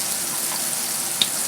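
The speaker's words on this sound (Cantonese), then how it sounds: "我哋一路煎一路喐下鑊啦" Fish frying in a little oil in a wok as the pan is moved about, a steady soft sizzle with a single brief clink near the end.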